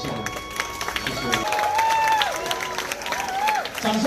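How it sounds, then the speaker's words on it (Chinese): Wedding guests clap in applause for the bride and groom after their bow, a steady crowd patter with a voice and tonal music sounding over it throughout. "再次掌声鼓励一下"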